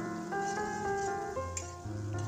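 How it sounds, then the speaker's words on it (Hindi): Ground spices with a pinch of asafoetida fry in hot oil in a pan for UP-style matar nimona, giving a steady close sizzle with a few light clinks of a stirring utensil. "इसके बाद सारे पीसे मसाले उसमें डाल के और अच्छी तरह से 4-5 मिनट तक उसको भूनेंगे।"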